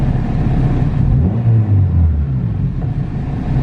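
Turbocharged low-boost 300+ hp GSR-engined EF sedan on a dyno blips its throttle from idle, the engine note climbing in one rev, holding briefly, then dropping back to a steady idle rumble, loud and close.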